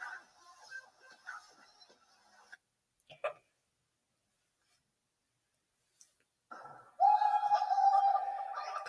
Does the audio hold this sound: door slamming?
no